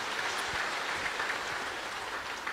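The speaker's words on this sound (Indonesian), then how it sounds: "Kasih tepuk tangan untuk mereka boyband itu." Crowd applause in a church service fills the space, dense even clapping at moderate distance with no talk over it.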